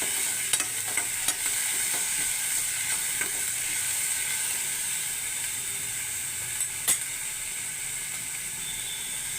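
Onions frying in a pan with a little salt for tomato chitranna, a dense continuous sizzle heard up close, with occasional light clicks of a spatula stirring through, no voices.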